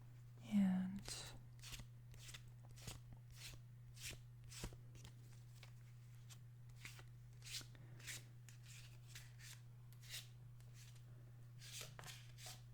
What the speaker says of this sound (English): I'm just going to do the shuffling next to the microphone